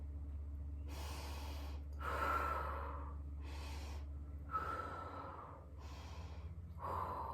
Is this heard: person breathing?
yes